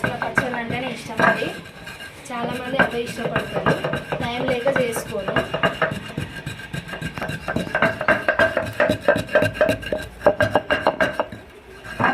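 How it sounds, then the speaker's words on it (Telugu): Cumin and mint are pounded in a stone mortar with a steady run of close, hard thuds and grinding knocks. A voice talks over it at times. "నేను ఇప్పుడు రోట్లోనే వేసి దంచి చూపిస్తాను"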